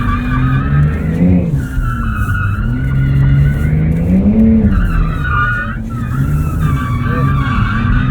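Tires of a 2023 Porsche 911 Turbo S squeal in long, wavering screeches while drifting on a Porsche Experience Center track, over a steady engine drone and with talk inside the car.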